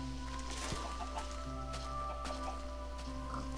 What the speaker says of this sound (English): Ooh, a chicken.